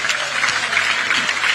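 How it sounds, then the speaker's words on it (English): Crowd at a Ugandan teachers' award ceremony clapping for the Karamoja region, a short, even burst of applause filling the hall, fairly loud and free of talk. "Can you clap for Karamoja?"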